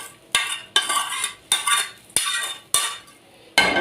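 A spoon stirring cooked mallow (khubeiza) with fried garlic in a pot, six regular scraping strokes with clinks against the metal, close and fairly loud with no talking.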